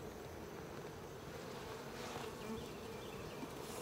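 Honeybees buzz around hive frames in a colony with a laying worker, a dense, continuous close-up drone with no pauses.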